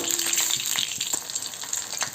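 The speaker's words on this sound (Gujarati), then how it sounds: "અને આ ઠંડુ કર્યા બાદ આને ફ્રાય કરીએ છીએ" Steamed jackfruit pieces, boiled with salt and turmeric, fry in hot oil over a medium gas flame, giving a loud, continuous, crackling sizzle close by.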